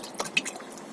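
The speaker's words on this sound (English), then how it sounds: "I'm going to let this drip for a couple of hours" Old black engine oil drips from a VW Beetle's drain into a pan, a few soft, close liquid drips spaced unevenly over a quiet background.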